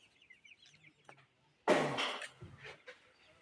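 Native chickens at a house construction site give faint scattered chirps and clucks, then a sudden louder burst of squawking that fades, quiet overall with no talk.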